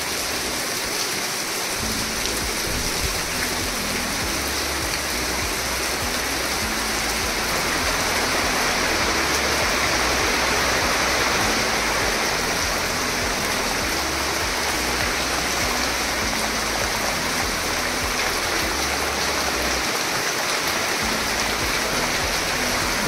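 Monsoon rain pours over a Konkan village, a continuous broad rushing wash like running water that holds steady for over twenty seconds, with a slight swell in the middle and no talking.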